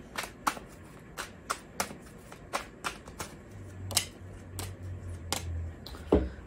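Tarot cards riffle and slap together in a series of sharp, close shuffling bursts, irregularly spaced, with a faint low hum beneath.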